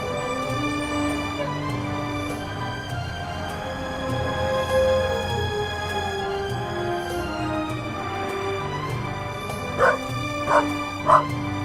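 A dog in The Raven – Legacy of a Master Thief yips, whimpers and gives a few short barks over steady game music, with three sharper bursts near the end.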